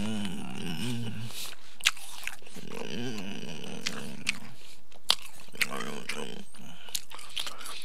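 A crisp, cold royal apple is bitten, giving sharp crunching snaps and chewing at irregular intervals, close to the microphone, mixed with someone talking over much of it.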